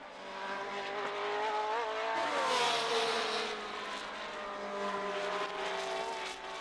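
Tyrrell and Ferrari Formula 1 cars from 1970 race, their high, whining engines rising and falling in pitch, with one car sweeping past loudly midway before the sound settles into a sustained drone.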